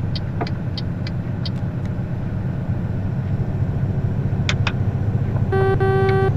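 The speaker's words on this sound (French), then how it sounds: "Ça, c'est le petit klaxon du Renault" A Renault truck's small horn gives a short pair of beeps near the end, heard from the cab over the steady drone of the truck engine and road noise on a convoy drive.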